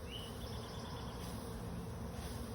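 Bees from a newly unboxed package hum in a steady, faint drone, a dense continuous buzz close by with a few higher whining passes and no voices.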